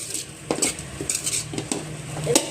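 Paneer fried rice is tossed and mixed in a pan with a metal spoon, giving repeated scraping and clanking strokes roughly every half second over a soft background sizzle, close and fairly loud.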